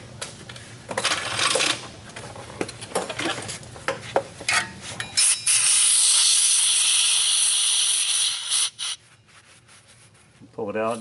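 A compressed-air blow gun blasts dirt from an axle seal on a 2005 Ford F-150, a loud sustained hiss lasting several seconds after a stretch of rubbing and clinking work noises, then cutting off.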